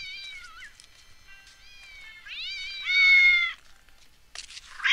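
A cat in the game Postal 2 meows several times, drawn-out whining calls with one louder caterwaul near the middle and a brief burst of noise at the end.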